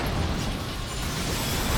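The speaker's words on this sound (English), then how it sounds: "Wait for 2 explosions." A dense, continuous rumbling blast fills a video game raid at high level with no quieter gap and no talk.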